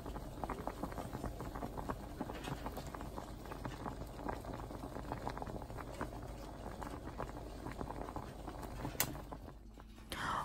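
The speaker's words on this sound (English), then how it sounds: "we're gonna let these boil or simmer for about 15-20 minutes, basically until they're nice and tender for mashing" Potatoes boil in a pot on the stove, a continuous bubbling and pattering that stays steady and close throughout.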